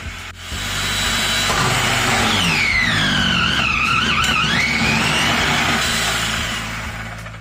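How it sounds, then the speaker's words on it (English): A Cuisinart Elemental food processor motor spins up on its high setting, a loud, close, steady whir with a rising and falling whine, holding for several seconds before winding down. "I'll get the motor running first on high setting before I add a couple of blocks of mozzarella cheese, which I'm going to fine shred first."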